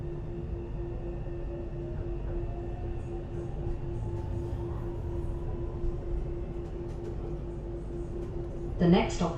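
Inside a new DLR B23 stock train bound for Woolwich Arsenal after King George V, a steady low running rumble carries a constant motor whine, with a brief louder clatter just before the end.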